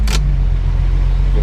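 Engine of a 1974 Datsun 260Z running close by, a steady low rumbling drone that holds even throughout, with a brief hissing burst at the very start and no clear climb in pitch.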